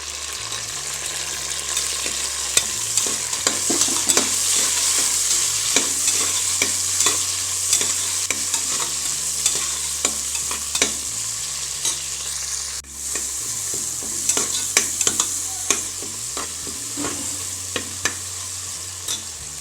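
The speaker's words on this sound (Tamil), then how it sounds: "வெங்காயம் வதங்கிடுச்சு இதில் தக்காளி சேர்த்துக்கலாம்" Onions and tomatoes sauté in a pan for pudina rice, a steady loud sizzle broken by repeated scraping and clinking stirs, with a low hum cycling in the background and no talk.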